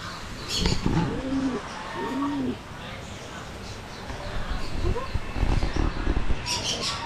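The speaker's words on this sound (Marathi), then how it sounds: "कबूतर आहेत, किती क्यूट आहेत ना" Pigeons coo softly in a few low, rolling calls at a resort in Kasarsai, Pune, with people talking and general background bustle around them.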